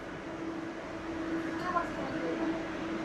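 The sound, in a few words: train running in Malaysia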